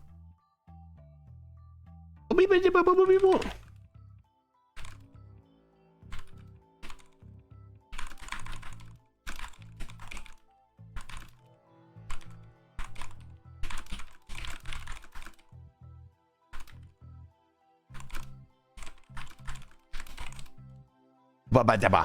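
Rapid bursts of computer keyboard typing, clicky and close, arriving in uneven clusters with short pauses, after a brief vocal sound at the start.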